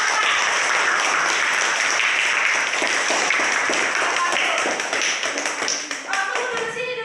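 Schoolchildren clap together in a classroom, a loud, dense burst of many small hands that thins toward the end as a voice cuts in over it.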